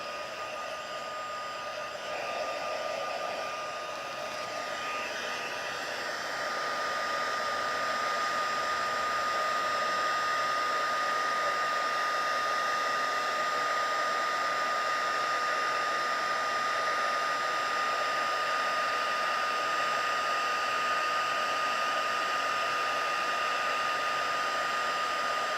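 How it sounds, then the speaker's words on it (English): A heat gun runs steadily for the whole stretch, warming up for stained-glass-style stamping craft work: a constant, loud, close blowing whir with a fan hum and a faint hiss, and no talking. "My heat gun. Let that heat up for a second."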